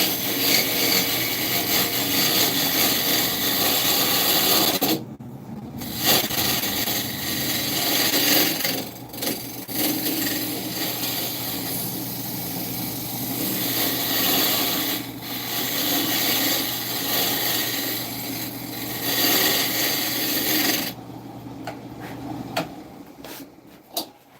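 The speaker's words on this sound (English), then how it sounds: "Still need to smooth the sides a little bit of it." A wood lathe spins an oak bowl while a tool smooths its sides, giving a steady broadband scraping hiss with brief dips and pauses, close and continuous throughout.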